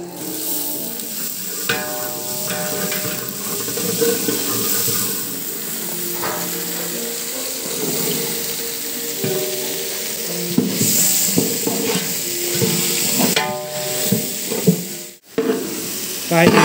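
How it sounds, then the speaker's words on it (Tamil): Vegetables sauté for sambar rice being cooked for a Sai Baba temple food offering, a sustained sizzle with repeated scraping and stirring against the pot, close and fairly loud, with a few metallic knocks. "காய்கறிலாம் போட்டோம், காய்கறி நல்லா வதக்கிக்கலாம்"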